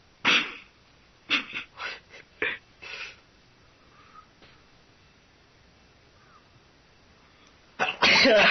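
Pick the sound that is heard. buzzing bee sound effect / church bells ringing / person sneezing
person sneezing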